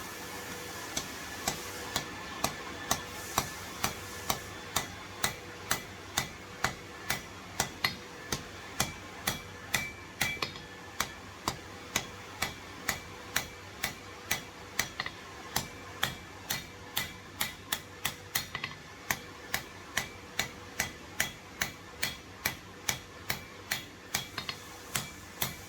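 Hammer striking a hot steel bar at a forge while drawing a short taper on the end, dozens of sharp ringing blows in a fast, steady rhythm, close and clear, with no voices.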